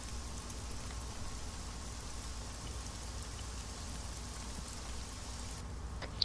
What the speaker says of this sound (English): And this fucking rain is making me sick.